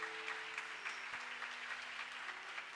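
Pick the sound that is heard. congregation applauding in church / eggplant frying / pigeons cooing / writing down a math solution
congregation applauding in church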